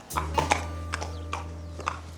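A horse on a long French ride walks on hard ground, hooves clip-clopping in a loose, uneven rhythm of several sharp knocks over a low steady hum, fairly faint and with no talk.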